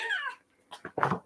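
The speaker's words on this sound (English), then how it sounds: "that's a cat." A cat gives a drawn-out meow up close, followed after a short pause by a few rougher, clipped vocal sounds.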